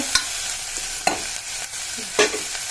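Curry cooking down in oil as a spoon stirs it, with a soft, even sizzle under several sharp scrapes and knocks against the pan at uneven intervals and no talking.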